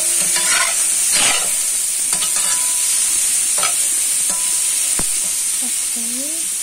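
Sliced, briefly boiled carrots go into a frying pan with stir-fried bean sprouts and tofu, with a steady sizzle and a few scraping stirs of the spatula throughout.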